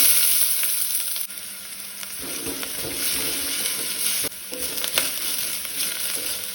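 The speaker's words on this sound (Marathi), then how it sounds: "आता हांवें गॅसार तोप तापत दवरला, तातूंत एक चमचो भर तेल घालून घेता आनी तातूंत आमकां घालपाक जाय कांदो," Onion fries in a spoonful of oil in a pan heated on a gas stove for a Goan sole fish curry, a continuous close sizzle with occasional stirring scrapes and no talk.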